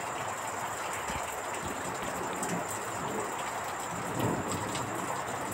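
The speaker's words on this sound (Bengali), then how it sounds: "সামান্য পরিমাণে ভেজে নিল মা এগুলো" Green chillies and taro leaf mixture frying in a pan, a steady broadband sizzle and crackle that holds evenly throughout with no voices over it.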